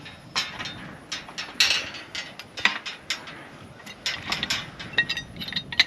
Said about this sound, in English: I wish the windmill would stop, but it's not gonna.